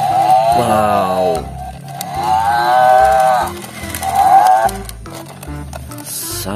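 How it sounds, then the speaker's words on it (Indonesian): Cattle in the video game Jurassic World Evolution 2 give three long, drawn-out moos, loud and close, separated by short gaps with a few faint clicks, and no talk. "Ada sapi ternak."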